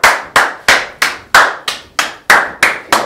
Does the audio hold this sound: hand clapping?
yes